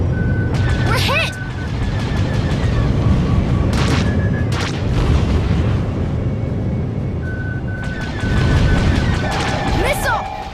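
Heavy missile-hit explosions strike a spaceship in a video game, with booming low rumbles and crashing bursts layered over tonal beeps and alarm-like tones, loud and continuous, with speech mixed in.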